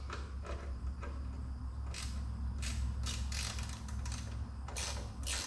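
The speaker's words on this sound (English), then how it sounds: "Just taking this bolt off" A bolt is worked loose on a John Deere 1B corn sheller, with quiet creaking and ratcheting metal clicks in short bursts, close and faint.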